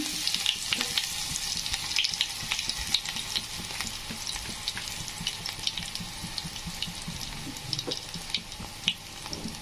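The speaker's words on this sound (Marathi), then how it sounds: "त्यामध्ये जिरे आणि कढीपत्ता टाकलाय, थोडासा लसूण टाकूया" Garlic with cumin seeds and curry leaves sizzles and crackles steadily in a couple of spoons of hot oil, a dense close frying hiss with small pops and occasional stirring, no talking.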